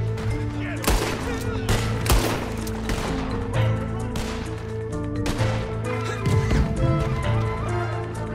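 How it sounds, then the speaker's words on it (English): Dense gunfire crackles from a Red Dead Redemption 2 online shootout, with rapid overlapping shots and horse sounds over a constant loud game soundtrack and shouted voices. "Keep firing anyway!"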